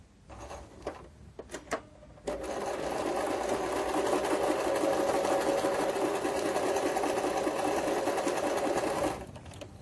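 A sewing machine stitches a quilting fabric block, a steady fast mechanical whir running for several seconds after a few short clicks and starts, then stopping.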